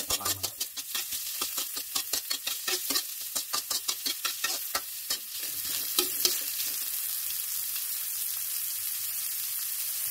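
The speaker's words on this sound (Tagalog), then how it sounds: "Gisa tayo ng bawang at sibuyas. Unahin natin ulit ang sibuyas." Onions sautéing in a pan for pizza topping crackle loudly with rapid, rhythmic stirring scrapes for about five seconds, then settle into a steady, even sizzle; nobody speaks.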